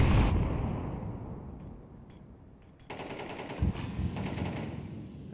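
AK rifle fire in a Counter-Strike esports match, a burst of rapid automatic shots followed by quieter rattling fire and a sharp thump.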